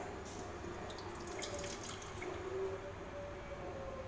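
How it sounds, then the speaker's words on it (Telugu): Water is poured into milk in a pot, giving a faint, continuous splashing trickle that stays steady throughout with no voices. "ఇందులో కొద్దిగా వాటర్ యాడ్ చేసుకుంటున్నాం"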